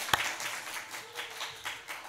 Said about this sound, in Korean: 이런 땐 박수 한번 치라.